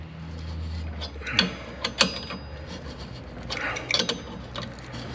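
A thread tap turned by hand cuts threads in a gyrocopter hub bar, giving off scattered metallic clicks and ratcheting creaks over a low mechanical hum, close and fairly quiet.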